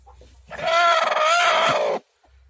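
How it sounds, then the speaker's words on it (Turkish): A single sustained, loud call from a broody hen, with a rising-and-falling harmonic tone, lasting over a second, like a drawn-out cackle, close up. "Burada bir tane daha yatıyor kurt tavuk."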